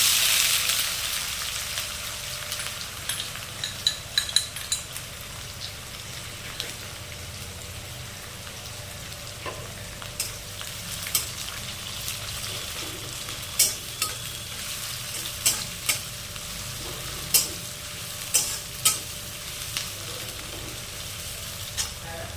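Crushed ginger, garlic and sliced onions fry in a pan for a hand-mixed chicken dish, a steady close sizzle with sharp crackles and pops scattered throughout, and no voices.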